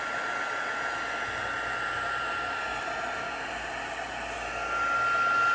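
Embossing heat gun blowing steadily, a loud close whooshing roar like a hair dryer that holds constant and swells slightly near the end, with no talk.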